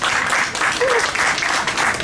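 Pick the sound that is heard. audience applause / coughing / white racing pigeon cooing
audience applause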